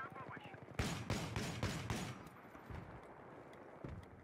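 Gunfire in the Battlefield video game, a rapid burst of loud, closely spaced shots followed by scattered, fainter pops, with a player's voice heard before the burst.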